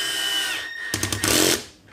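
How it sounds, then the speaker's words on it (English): A power drill drives self-tapping screws into plywood in a short, close burst of whirring and grinding, rising into a loud buzzing run before cutting off, over a faint background hum. "I'm going to screw it down"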